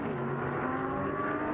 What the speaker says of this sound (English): Here come the Lamborghini and the Ferrari once again.